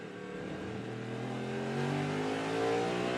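IMSA GTP race cars, a BMW among them, accelerate through a tight chicane at Indianapolis past a slower Porsche, engines rising in pitch in a steady loud climb, with no voices.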